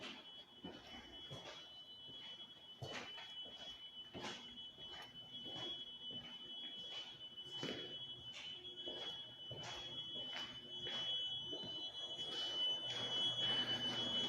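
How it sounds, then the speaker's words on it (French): A building alarm system sounds in an abandoned prison, repeated shrill electronic tones pulsing at a steady rhythm amid scattered knocks and footstep-like clatter, growing louder toward the end. "si vous attendez un système d'alarme, c'est normal. C'est normal parce que il était déjà comme ça quand on est rentré"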